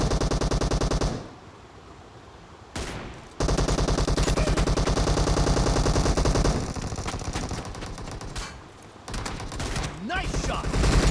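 Gunfire rattles in the shooter game PUBG Mobile: dense, rapid bursts of shots, loud and close, separated by short lulls and background game ambience.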